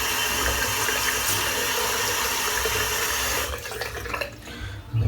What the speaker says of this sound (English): just wet my head.